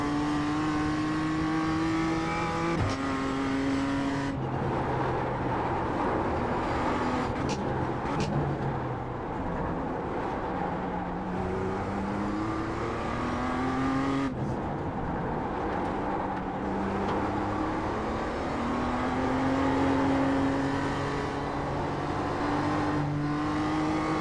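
Racing car engines in a video game race drone and whine loudly and continuously, pitch rising and falling through repeated gear shifts and revving, no talk.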